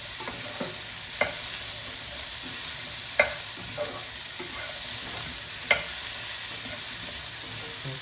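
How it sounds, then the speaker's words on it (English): Onions cooking down in a pan for spaghetti Bolognese, a continuous close hiss of frying with occasional sharp scrapes of a stirring utensil at a steady loudness, no one speaking. "Cook them onions down"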